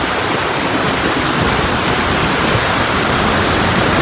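Heavy rain roars steadily alongside a dense rush of water gushing from a spout, loud and continuous throughout with no breaks.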